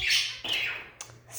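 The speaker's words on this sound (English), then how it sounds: "budgies are amazing. Amazing birds." Pet budgies give sharp squawks and chirps, a few bright calls close by with short pauses between them.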